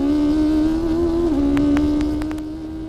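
An Ariel Atom V8 car sits at launch control, its engine held at a steady high rev with a loud, close, droning note that dips briefly, while a few sharp ticks and clicks sound over it.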